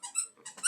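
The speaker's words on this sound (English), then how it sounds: "sorry if you can hear a squeaky toy, that is my dog playing with her toys" A dog's squeaky toy being chewed and squeezed during play indoors, giving a quick run of high, bright squeaks in several bursts over less than a second, fairly close and with no voices.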